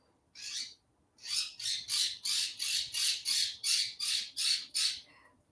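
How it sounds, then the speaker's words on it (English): A Quaker parrot kept indoors squawks in a long run of about a dozen harsh, raspy calls, one alone and then a steady even rhythm of loud, close squawks with no talk over them. "He is a Quaker parrot."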